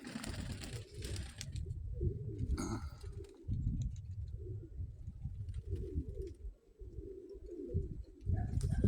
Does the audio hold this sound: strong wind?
no